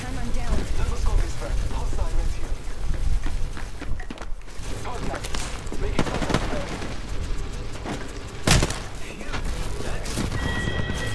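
Gunfire in the battle royale game Apex Legends, with bursts of shots, booms and action sounds running steadily throughout the clip under voices talking.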